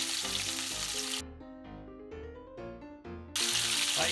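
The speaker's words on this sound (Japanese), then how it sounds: "これ少し焼けてますけど、もっともっとこれをパリッと焼きたいと思います。" Chicken wings frying skin side down in a pan over medium heat, a bright steady sizzle that drops away briefly and then returns loud, with music underneath.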